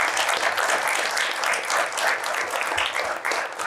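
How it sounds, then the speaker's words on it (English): Audience members at the Washington Informer Spelling Bee applaud a speller after her word, a lively round of many hands clapping, near and full, with slight swells and a few faint low thumps. "Let's give her a nice round of applause."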